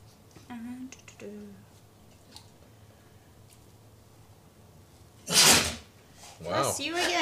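A single sharp, loud sneeze bursts out in a dusty room after some quiet clicks and brief murmured voices, followed by people talking.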